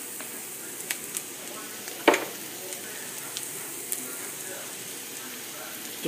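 Onions and peppers sautéing in a pan: a soft, steady sizzle with scattered small crackles and one sharp clink from a utensil midway, fairly faint and close.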